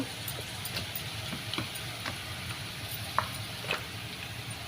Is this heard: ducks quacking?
no